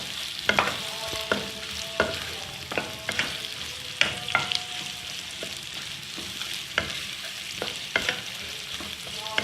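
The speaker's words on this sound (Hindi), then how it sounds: "प्याज को हमने अच्छी तरह से फ्राई करना है ऑयल में।" Onions frying in oil for anarkali biryani, a steady sizzle broken by repeated scraping stirs from a spoon against the pan, close and moderately loud with no one speaking.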